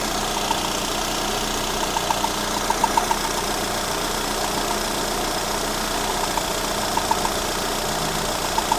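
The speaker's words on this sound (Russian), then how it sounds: "Запустил мотор, сейчас не брякает, но какой-то звук появляется." A Lada Granta 126 engine idles after a full overhaul, a steady mid-pitched running drone with faint intermittent ticking and light knocking clicks recurring irregularly, heard close up without talk.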